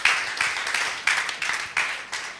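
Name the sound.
audience applause at a tech conference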